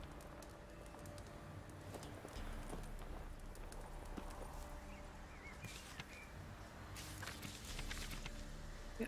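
Clip-clop hooves of the horse Roach running in Witcher 3 patter steadily at mid distance, with ambient game sounds and occasional bird coos behind them.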